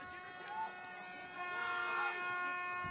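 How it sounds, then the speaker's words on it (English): Sustained air horn tones drone over the murmur of a large crowd at a football match, several blaring together and growing louder toward the end. "What an atmosphere, though, with those air horns / hooters or vuvuzelas."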